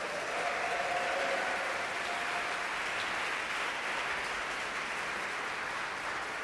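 A large audience applauds in a church after a jazz quartet concert, a dense, even wash of clapping that holds steady without a break.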